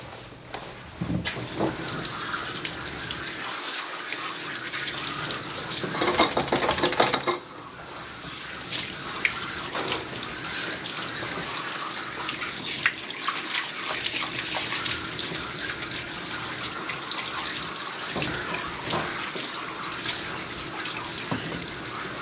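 Water runs continuously from a tap or sprayer while a Yorkie mix is rinsed during a full groom, a close, steady hiss and splash with brief shifts in flow, with no voices.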